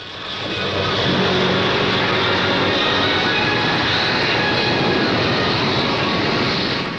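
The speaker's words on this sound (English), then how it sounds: "34-year-old squadron leader Lecky Thompson, about to vertically take off the Hawker Siddeley Harrier on the overall winning London-New York flight." A Hawker Siddeley Harrier jump jet roars through a vertical takeoff, a loud, steady, broadband jet rush that swells over the first second and then holds at full power with no voices.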